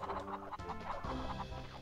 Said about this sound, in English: Ah, chicken.